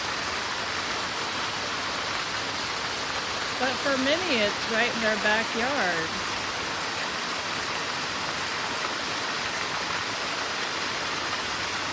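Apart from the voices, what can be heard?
waterfall in a park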